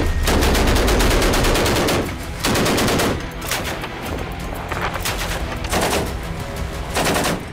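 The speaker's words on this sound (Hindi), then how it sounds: "तोप और गन से लाइव फायरिंग हो रही है।" Loud bursts of rapid automatic gunfire in live-fire drills at sea, in several volleys separated by short pauses, with a softer rattle continuing between them.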